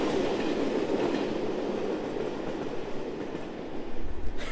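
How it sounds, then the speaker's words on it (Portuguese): A train rolls past close by, with a steady, loud rumble and clatter of wheels on rails lasting the whole stretch, and a brief heavier thump near the end. "O trem tava passando, me atrapalhando direto pra gravar."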